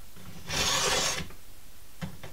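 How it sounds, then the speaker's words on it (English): A hand file rasping a groove into bone while carving a fish hook, one sustained close scrape followed by a couple of short light strokes, no voices. "Start a little groove there with the file."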